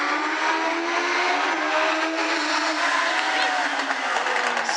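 Legends race cars roar side by side through the corners of an oval track at a regional qualifier heat race, a loud, continuous blend of engines under excited announcer commentary.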